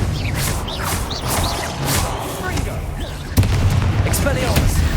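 Confringo, the explosive fire spell from Hogwarts Legacy, sounds as repeated booming bursts over dense game combat noise, with a sharper, louder blast near the end; a voice speaks during it.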